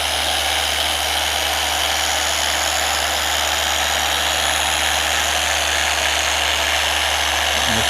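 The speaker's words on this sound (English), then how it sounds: "Letting the polisher work." A power polisher runs steadily on the paint of a 2022 BMW G80 M3 Competition xDrive, giving a constant close hum and whir for the whole stretch with no speech.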